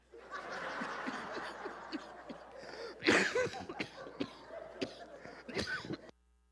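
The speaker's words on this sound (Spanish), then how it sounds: "la tos todavía la traigo ahí" A burst of coughing and throat clearing around the middle, mixed with breathy chuckles over a busy background of murmuring, during a church sermon.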